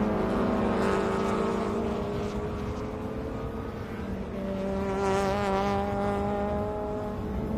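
Compact race cars at Chang International Circuit in Thailand roar past in a Super Compact race, engines whining and shifting with pitch sweeps as cars pass near, a layered continuous drone of several motors.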